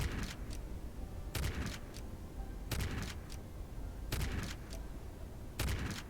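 Shotgun blasts in the video game Exoplanet: First Contact, arriving as five evenly spaced clusters of two or three sharp shots each, about every second and a half, fairly faint.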